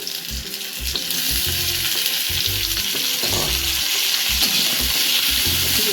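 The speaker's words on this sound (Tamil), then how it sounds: "வெங்காயம் வதங்கிட்டு இருக்கும் போது இப்போ நம்ம இந்த பிரண்டையை சேர்த்துக்கலாம்" Adamant creeper sautéing with small onions in a pan, a loud dense sizzle that swells after the first second, with repeated rhythmic spatula scrapes and knocks underneath, near and continuous, no speech.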